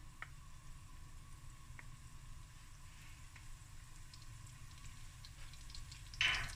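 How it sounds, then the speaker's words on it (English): A sauce with butter simmers gently in a pan, giving a soft, steady bubbling hiss throughout, with a louder clink near the end. "So it's slowly going to bubble away."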